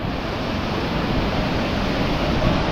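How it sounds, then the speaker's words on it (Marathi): A steady, unbroken roar of rushing water fills the scene, loud and close, with no voices. "कसला जबराट धबधबा आहे"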